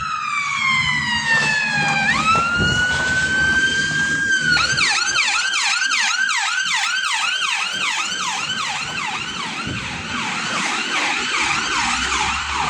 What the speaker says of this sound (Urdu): اے نیلیاں بتیاں والی ایمبولینس آنی پئی